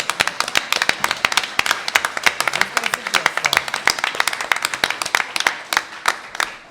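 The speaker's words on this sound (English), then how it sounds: "I think you should give yourself a round of applause." An audience at a mayoral candidate forum claps in a sustained, dense burst of individual hand claps, fairly close and continuous.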